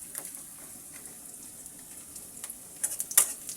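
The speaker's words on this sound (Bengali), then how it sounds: "এদিকে পেঁয়াজটাকে আমি ব্রাউন কালার করে ভেজে নিচ্ছি।" Onions browning in a hot pan give a soft, steady sizzle, with a few sharper taps and scrapes of stirring toward the end.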